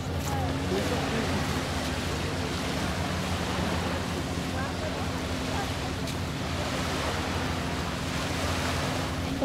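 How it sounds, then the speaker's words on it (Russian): Sea waves wash onto a beach at night on Phi Phi Don island, Thailand, a steady broadband surf wash with some wind noise and a low engine-like hum underneath, continuous throughout. "Такой здесь пляж."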